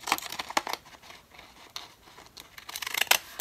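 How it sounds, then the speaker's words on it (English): Deckle scissors cut through paper journaling cards in close, crisp snips, with bursts of papery crunching and rustling grouped at the start and end and a quieter stretch between. "I'm just going to cut these down to fit. So I've got my deckle scissors."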